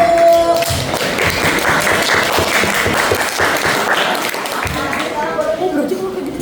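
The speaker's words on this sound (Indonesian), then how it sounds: "Tepuk tangan untuk kelompok 1." Students in a science class applaud a group, a busy patter of clapping and tapping under overlapping classroom chatter and voices.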